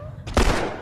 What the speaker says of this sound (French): Oh, le headshot, magnifique.